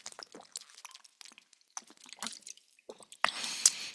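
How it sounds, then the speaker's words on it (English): Close, faint wet slurps and small liquid squishes of someone sipping water come in a scattered run, ending with a louder breathy exhale. "Let me take a sip of this diet water."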